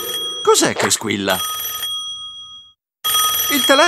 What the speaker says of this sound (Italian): Il telefono!